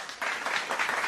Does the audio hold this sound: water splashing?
no